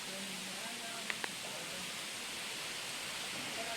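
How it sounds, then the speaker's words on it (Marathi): A stream flows at Mahuli fort, making a soft, continuous rushing wash that holds even throughout, with two brief faint clicks near the start. "आणि हा पाण्याचा आवाज"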